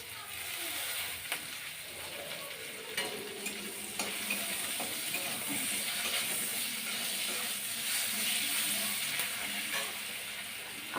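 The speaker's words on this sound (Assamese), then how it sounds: "এতিয়া তেজপাত দি আছোঁ।" Bay leaves sizzle in hot oil in a home kitchen while being stirred, with a steady close frying hiss and occasional scrapes of the spoon.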